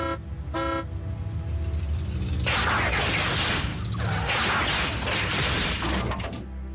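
A car horn sounds briefly, then a louder, noisy blast of honking and mechanical clatter fills the rest, close and harsh.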